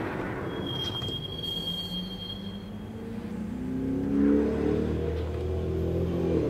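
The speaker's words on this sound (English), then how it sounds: "the train doors had already shut behind me, and I was in for the ride" A subway train ride in Max Payne, with a steady low rumble of the carriage and rising, whining tones as the train accelerates, plus a faint high squeal early on.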